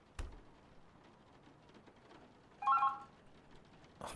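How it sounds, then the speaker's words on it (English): A telephone rings briefly in an adventure video game set in a Berlin apartment, a short electronic ring burst after a quiet stretch, fairly clear against low background. "Oh, the phone."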